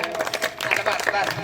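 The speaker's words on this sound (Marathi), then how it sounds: "टाळ्या वाजवा, टाळ्या वाजवा" A kirtan audience claps their hands in a brisk, uneven patter, moderately loud and close, brief and mixed with a little background voice.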